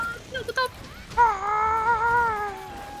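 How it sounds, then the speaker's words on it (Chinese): A cat's meow rises and falls in a drawn-out tonal cry during a Monster Hunter World game session, preceded by short clicks and game noise, fairly clear against a low background. "什么猫叫声？"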